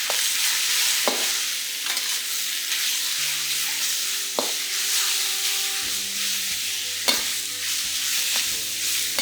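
Pork with ginger and garlic stir-fries in a wok over high heat, a loud, steady sizzle and hiss broken every few seconds by sharp scrapes of the spatula against the metal.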